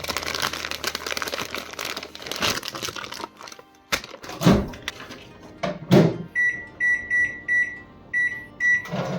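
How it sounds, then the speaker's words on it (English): A microwave oven heats nuts in a paper bag, with a steady hum and crinkling paper, then the door clunks and a series of repeated beeps sounds clearly at close range. "Now I don't have a grill, oven or stove, so we're going to use a microwave method."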